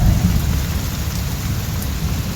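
A Kalbaisakhi thunderstorm brings heavy, steady rain drumming on surfaces, with deep rolling thunder rumbling underneath. The sound is loud and close, with no voices.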